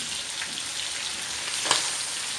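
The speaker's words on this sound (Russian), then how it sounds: "Пусть немножко обжаривается." Chicken pieces and onion fry in a pan over medium-low heat, giving a steady soft sizzle with a brief louder crackle partway through, heard alone at moderate level.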